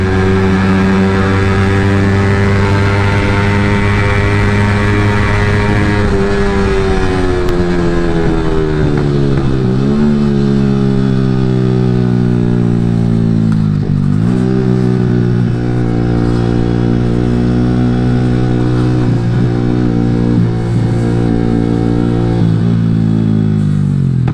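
A Yamaha R15 V3 motorcycle engine pulls hard in third gear on a bouncy road, a loud close buzzing drone that climbs in pitch, dips, then rises again.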